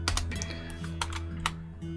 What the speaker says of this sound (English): if I press 0 on the keyboard, enter, and then enter again